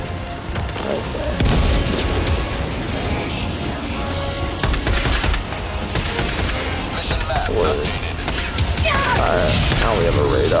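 Grenade blasts and battle noise in Helldivers 2: heavy booms and bursts of gunfire roll through a loud, dense firefight, with several sharp detonations and voices talking over the chaos.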